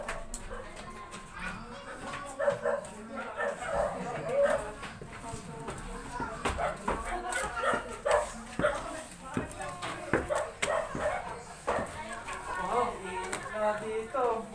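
A big dog barks repeatedly in short bursts amid lively overlapping talk, the barks close and mixed in with the voices throughout.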